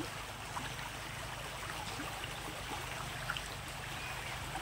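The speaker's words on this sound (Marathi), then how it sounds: "हा आमचा व्हाळ आहे ना, त्याला पण पाणी आलंय बघा." Rain-swollen village stream in Kandalgaon, Malvan, flowing after heavy rain, a soft continuous rushing and trickling wash, fairly faint and steady, no voices.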